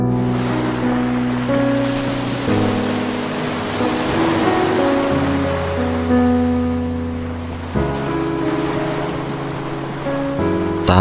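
Sea surf washing onto a beach during an ash-scattering ceremony, a steady, loud roar of breaking waves with sustained tonal drones layered over it throughout.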